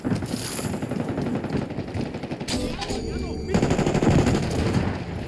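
Rapid bursts of automatic gunfire from Call of Duty: Black Ops, dense and continuous, with a brief lull midway before the shooting picks up louder again.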